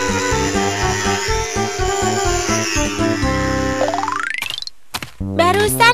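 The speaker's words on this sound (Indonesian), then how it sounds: "Itu suara mesin pengasapan." A mosquito fogging machine sprays against dengue fever in a residential neighborhood, its loud pulsing, buzzing engine drone close by, then sputtering, briefly stopping and restarting.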